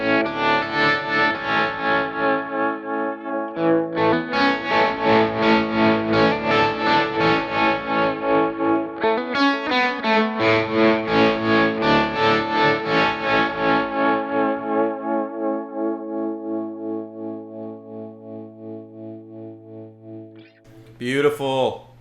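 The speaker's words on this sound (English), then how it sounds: "Oh, and I forgot. I still got this trem here." An electric guitar through a Kemper rig with a tremolo effect rings out sustained chords pulsing in a steady throb, loud and close, fading near the end before a brief pick scrape.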